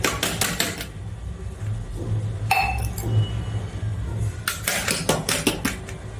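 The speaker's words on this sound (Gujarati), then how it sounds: "એ જ રીતે બંને ગ્લાસને થોડા થોડા ચપ્પુની મદદથી લઈ અને કાઢી લેવાના." Drinking glasses holding a steamed bottle gourd and semolina snack are loosened and lifted out with a knife, giving sharp clinks and ringing glassy taps in bursts separated by quieter scraping.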